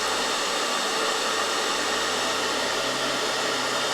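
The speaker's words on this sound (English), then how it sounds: "with the air from the hair dryer, so don't turn it on too high" A hair dryer blows air steadily to dry parts of a Reef Nexus aquarium integration kit, a loud continuous rushing hiss with a low motor hum that runs unbroken and alone.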